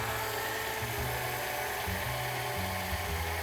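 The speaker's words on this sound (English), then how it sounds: "So start the whisking." Electric mixer whisking meringue for pandan-flavoured cloud bread, a steady close motor whir with shifting low tones as the beater works through the egg whites, no talking.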